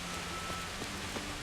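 Rain falls in the medieval video game Kingdom Come: Deliverance, a steady soft hiss of rainfall with a few faint drop ticks and no talking.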